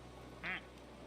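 A single short cartoonish duck quack from a video game, bright and clear, standing alone over a faint steady background hum.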